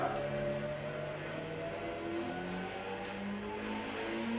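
A car revs on a mountain downhill road, its engine whine rising and falling in gliding pitch steps while it slides, fairly faint and steady.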